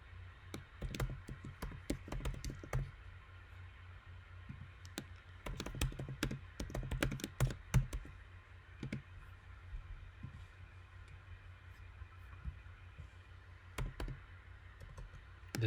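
Computer keyboard typing in quick bursts of close, light key clicks with a few mouse clicks, pausing between groups against a quiet room hiss.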